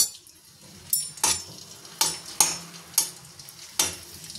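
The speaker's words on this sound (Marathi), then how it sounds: "आता आपण थोडा डिंक तळून घेऊयात" Edible gum frying in hot ghee for methi laddoos, a steady sizzle broken by about six sharp scraping clanks of a spoon stirring in the pan.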